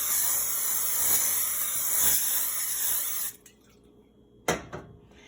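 A steady, loud hiss of cooking spray onto a hot pan over medium heat lasting about three seconds, then quiet with a short sharp burst near the end.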